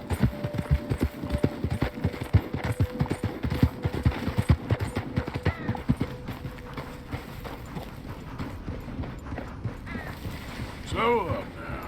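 Horse hooves clip-clopping in Red Dead Redemption 2, a steady rhythmic gait running under a voice, with hum in the background.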